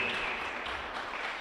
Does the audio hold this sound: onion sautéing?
no